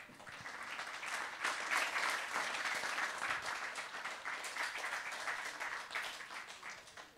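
Sustained audience applause fills a conference hall for the maker of a short film, steady and dense throughout before tapering slightly at the end.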